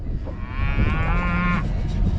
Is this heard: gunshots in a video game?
no